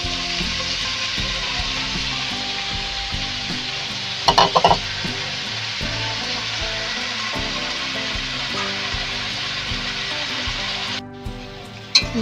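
Bottle gourd greens stir-fry in a pan of vegetables cooking with a hilsa fish head, a steady close sizzle throughout, broken by a brief clatter of stirring near the middle and a sudden drop in the hiss near the end.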